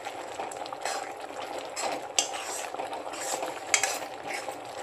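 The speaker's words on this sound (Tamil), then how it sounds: "ரெண்டு நிமிஷம் கொதிச்சிருச்சு" Papad curry bubbles on a stove, a close, continuous simmering fizz with small pops and occasional soft clinks of a spoon against the pot.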